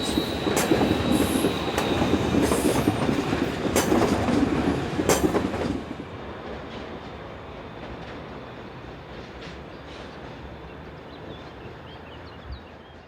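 Class 535 Lötschberger Regio Express unit on the old Lötschberg Summit line via Kandersteg, rumbling loudly with wheel clatter for about six seconds before fading to a distant, steady hum.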